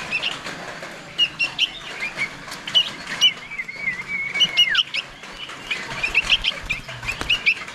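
Baby birds chirping in a bird-rearing house, high-pitched cheeps and tweets coming in repeated busy bursts with a sustained whistled note midway, fairly close and lively throughout.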